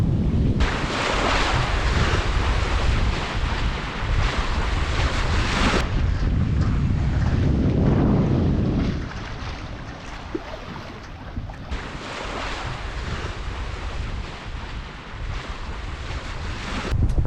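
Wind and ocean waves surge around a sailing yacht under way, a loud broadband rush with wind buffeting the microphone, easing slightly in the middle before building again, with no voices.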